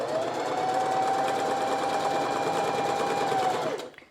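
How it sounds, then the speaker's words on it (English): A sewing machine runs steadily as it stitches a straight seam off the fabric edge while a skirt is sewn, a close, even whirring hum that stops abruptly near the end. "we're going to sew straight off the edge and go for 1 inch or 2."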